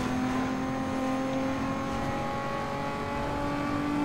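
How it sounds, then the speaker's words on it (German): Turbocharged car engine in the racing game Need for Speed Underground 2, a steady loud drone that holds one pitch from start to finish, with no talking. "Das macht auch dem Turbo in dem Motor Sound."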